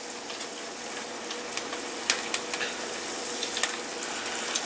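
Chicken pieces double frying in hot oil give a steady, dense sizzle with scattered sharp pops and crackles, close by and continuous with no talk.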